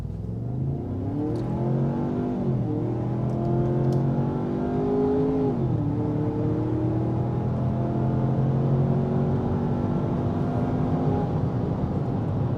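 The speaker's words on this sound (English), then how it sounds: "The 2-liter engine is nice. It also has a really great sound." Ford Bronco Sport Heritage Limited with a 2.0-liter engine accelerates from inside the cabin, engine note climbing steadily with a couple of gear shifts, a moderate droning rumble with no talking.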